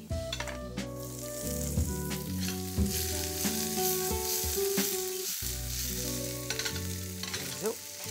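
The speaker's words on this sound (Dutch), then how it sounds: "Gaan we de rest van de groentjes in ons pan doen." Vegetables sizzle and crackle steadily in a hot pan with garlic added, with occasional stirring clinks, close by and continuous.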